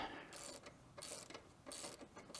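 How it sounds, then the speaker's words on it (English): Metal wrench working a 12mm caliper bolt loose on a Honda CB500X motorcycle brake, giving several short bursts of ratcheting mechanical clicks with brief pauses between them, close and fairly quiet. "using the 12mm, we're going to remove the caliper bolt"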